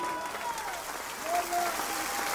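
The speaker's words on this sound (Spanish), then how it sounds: "Fuerte el aplauso." Steady applause from a church congregation, a continuous wash of clapping that holds level throughout, with a faint tonal voice or instrument running beneath.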